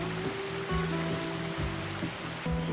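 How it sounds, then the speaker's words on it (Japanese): Heavy rain pours down in a continuous hiss, steady and fairly loud, with low repeating thumps beneath it and no voices. "雨が土砂降りになってきましてね"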